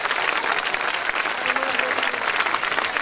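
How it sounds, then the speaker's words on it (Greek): Audience applause at a children's gymnastics show, with dense, sustained clapping from a large crowd filling the room and a faint voice underneath. "Ένα χειροκρότημα για όλους μας, για παιδιά, γονείς, τους πάντες."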